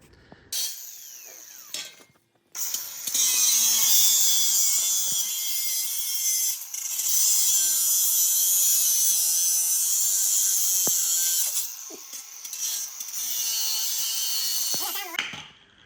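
A high-pitched power tool grinds and cuts through the lower seat mount on a RZR Turbo S, a loud sustained whine running for several seconds with brief pauses and restarts.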